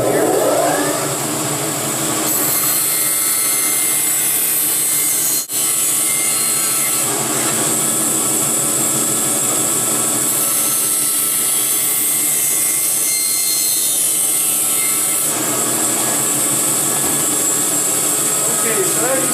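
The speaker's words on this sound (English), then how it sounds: "So I'm going to fire it up just to make a warm cut here." A large bandsaw with a tilting table runs and cuts through scrap wood, giving a loud, steady mechanical whine with a rough sawing rasp. The cut shifts in a few places and there is one brief sharp knock, with nobody speaking.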